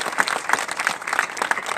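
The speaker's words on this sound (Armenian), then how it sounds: "առաջարկում եմ նրանց ծափահարենք" A hall audience applauds party representatives at a political gathering in Armenia, dense steady clapping from many hands, fairly close and unbroken throughout.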